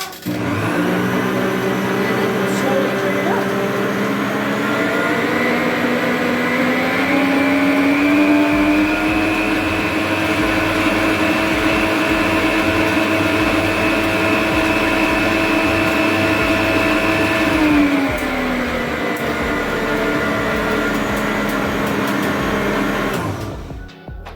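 Electric mixer beating dry ingredients into brownie batter, a loud, steady motor whine running continuously for over twenty seconds, dipping slightly in pitch midway and cutting off at the end, with no talk.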